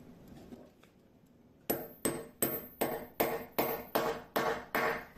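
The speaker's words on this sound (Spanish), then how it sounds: "Y esta parte la apoyamos por encima y golpeamos con un martillo." Hammer strikes an eyelet setter to set a metal eyelet in a Regency corset, nine sharp, evenly spaced metallic blows close up after a quiet start, each with a brief ringing clink.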